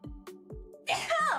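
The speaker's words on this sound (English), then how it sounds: "I'm gonna sneeze again." A person sneezes once, a sudden loud burst that follows a few soft breathy vocal sounds, heard close up indoors.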